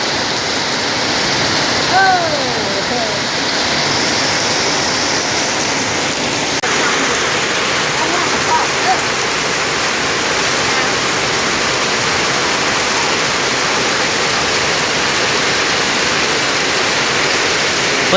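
Heavy rain from a storm falls over rice fields in a dense, loud, unbroken hiss, with a faint voice briefly heard early on beneath it.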